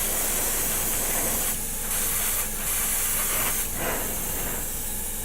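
Airbrush or spray can hissing steadily as a second coat of paint goes onto a War of the Worlds model kit, a continuous close spray with brief pauses between passes and no talk.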